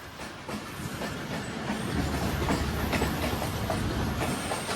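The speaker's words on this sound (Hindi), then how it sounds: "Nine up Allama Iqbal express." Allama Iqbal Express passenger train of Pakistan Railway passes in smog near Khanewal junction, a steady rumbling roll with rhythmic clickety-clack of wheels over rail joints, heard from a moderate distance with no voices.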